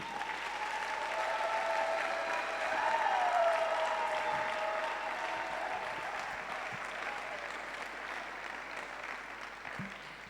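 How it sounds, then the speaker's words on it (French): A church congregation claps loudly for honoured members during a Sunday service, sustained dense applause filling the room evenly for about ten seconds before easing slightly at the end. "d'applaudir très fort pour ces gens"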